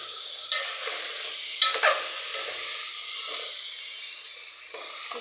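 Huruli kayi palya with coriander leaves sizzles in a pan while a spoon stirs it, making a steady frying hiss broken by a few scraping, clattering strokes up close. No talking.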